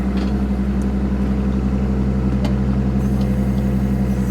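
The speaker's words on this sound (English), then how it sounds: "Bring up the RPM to about, well, we'll go full throttle here." The engine of a Rippa R13 mini excavator runs steadily at full throttle, a loud, close, even drone with a strong low hum and no talk.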